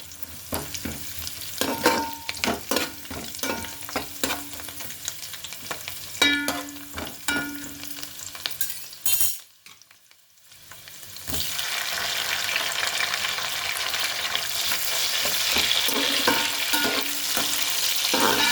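Onions fry in a pan for chicken biryani with a steady close sizzle and stirring scrapes; the sizzle drops out briefly partway through, then returns as a louder, even hiss.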